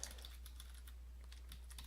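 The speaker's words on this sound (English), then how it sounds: "I'm just going to type. It's going to be faster." Quick, light keystrokes patter on a computer keyboard, faint and close, in irregular bursts with brief pauses and no voices.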